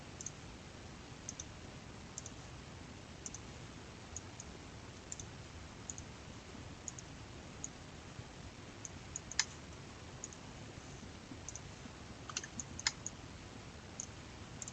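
Sharp, sparse computer mouse clicks tap out at irregular intervals over a faint steady hiss, close and quiet, with no talking.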